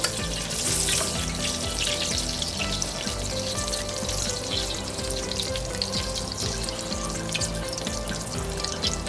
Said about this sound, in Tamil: ஒரு பட்டை, 2 லவங்கம், ஒரு ஏலக்காய், ஸ்டார் அனீஸு, அதுக்கப்புறம் பிரியாணி இலை போட்டு லைட்டாக ஃப்ரை பண்ணிக்கோங்க